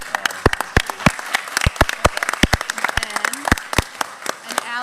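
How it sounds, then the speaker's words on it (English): Scattered hand claps ring out in a city council chamber, sharp separate claps from a small group in an irregular rhythm, fairly close, with voices talking underneath. "You got to stand up and get a round of applause."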